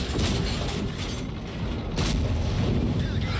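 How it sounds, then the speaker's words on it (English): Tank guns fire in the World of Tanks video game during a tier 11 tank battle. Two or three booming shots cut through a constant low rumble of battle noise, and no one speaks. "Track him with the little gun, shoot him with the big gun"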